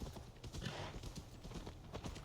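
Horse hooves clip-clopping at a gallop in the Assassin's Creed video game, a quick run of distinct hoofbeats, fairly quiet and close, with no talk over them.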